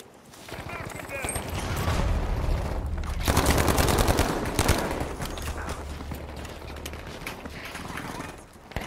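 Bursts of rapid gunfire from a video game rattle out in loud clusters over a dense, continuous game soundscape, with someone talking over the action.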